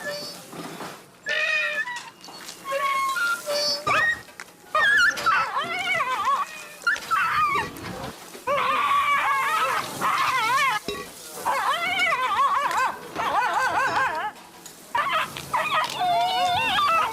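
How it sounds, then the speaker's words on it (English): Dogs whimpering and crying in an animal-abuse public service announcement while a meat grinder runs, producing continuous, loud, overlapping high-pitched wails and yelps with little pause throughout. "we hear dogs cry as the meat grinder is being used"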